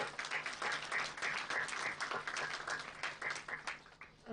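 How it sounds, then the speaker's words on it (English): A conference audience gives a speaker a round of applause, a dense steady clapping that lasts a few seconds with some tonal sound mixed in. "Let's give him a big round of applause."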